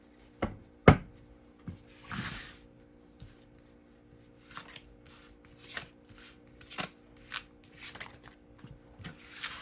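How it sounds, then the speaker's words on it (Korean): Tarot cards being shuffled and drawn, giving soft papery riffles, slides and light taps that come in scattered bursts, with one sharper knock near the start, close and quiet with no talking. "자, 바로 카드를 뽑아서 더 이야기를 해보도록 할게요"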